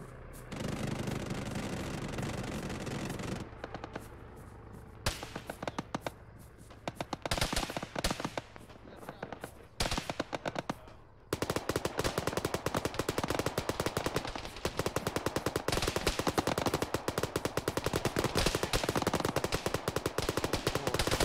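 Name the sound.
gunfire in video game ArmA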